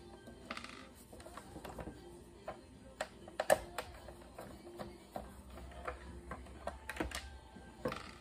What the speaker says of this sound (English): So we're gonna take those two screws out.